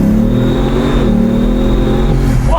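A Bugatti Veyron Grand Sport's engine roars loudly and close as it accelerates in first gear, a steady rising drone with a brief pitch shift near the end.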